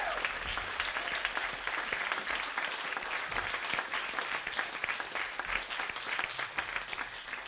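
Sustained applause from an audience at an evening literary reading program, a dense continuous patter of many hands filling the whole stretch at steady volume with no talk over it.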